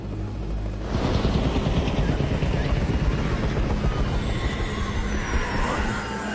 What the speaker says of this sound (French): Ils sont attirés par le bruit de l'hélico.